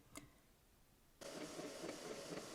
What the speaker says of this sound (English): the exact printer I use is a Canon Pixma